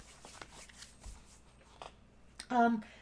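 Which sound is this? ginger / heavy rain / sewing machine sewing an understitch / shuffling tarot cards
shuffling tarot cards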